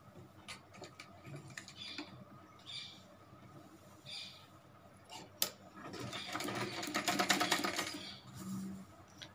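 A sewing machine stitches a palazzo waistband in short bursts of needle rattle, then a longer, louder run of stitching near the end, close by with no talk.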